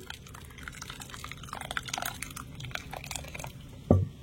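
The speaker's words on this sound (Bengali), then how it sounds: "এবারে অল্প দিয়ে দিচ্ছি গরম জল।" A little hot water is poured over rinsed broken wheat (daliya), giving a brief close trickle with small splashes and clinks, then a single dull knock.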